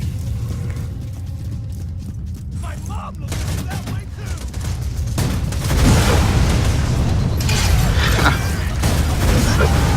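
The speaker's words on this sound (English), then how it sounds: "there's just something about watching that many Norfleet shots go off at once that I find really funny" Norfleet rocket launcher shots from the video game Borderlands 2 burst in a dense, continuous barrage of booms and crackling explosions, growing louder and fuller partway through.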